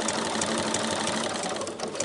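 Sewing machine stitching fabric for a festive advent calendar, a quiet, rapid, steady mechanical whirr running continuously for a couple of seconds.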